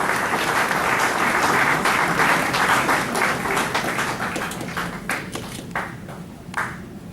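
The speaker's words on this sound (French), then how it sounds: "Ensuite, nous acclamons s'il vous plaît." A crowd at a ceremony launching family allowance payments to employers bursts into sustained applause, dense and loud at first, then thinning into scattered claps toward the end.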